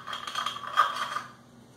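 Spring and charging handle sliding out of a KelTec Sub 2000 Gen 2 9mm rifle during disassembly, a short metallic rattling slide with a light ringing clink, close and quiet, without speech.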